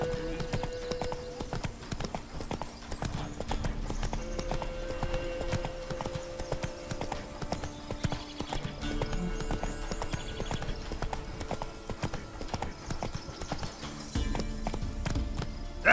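Roach, a horse in The Witcher 3 near Vizima, trots with a steady, close clip-clop of hooves that runs the whole stretch, alongside occasional whinnies and a low game music bed.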